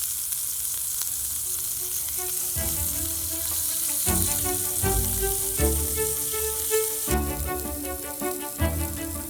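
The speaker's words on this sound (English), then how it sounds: "process probably 5 or 6 times until it's all nicely browned and cooked" Ground beef, cooked from frozen, browns in a pan with a strong, continuous close sizzle, with a few scrapes and shifts as the meat is broken up and turned, and no talking.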